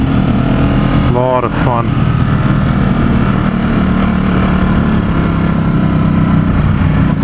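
A 2017 Ducati Supersport S on a test ride in San Francisco: loud, steady engine drone with wind rush throughout, and someone briefly speaking over it.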